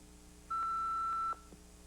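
A single steady electronic answering machine beep, lasting just under a second, sounds clearly over a quiet low hum before a message is left.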